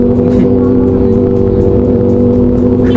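Superbike engine at an Indian wedding, a loud steady idle with throttle blips over a noisy crowd and background voices, up close.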